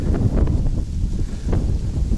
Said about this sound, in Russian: Ветер, конечно, дует.